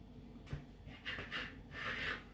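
A knife slices through thin layers of baklava yufka dough, making a few soft scraping rubs and rasps, quiet and close, with a small tap near the start.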